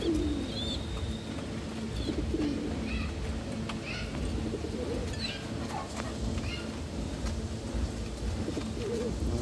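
Soft pigeon coos repeat under a steady hum of background noise, with a few faint chirps scattered throughout.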